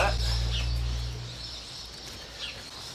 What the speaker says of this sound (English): Man, you hear all those bloody birds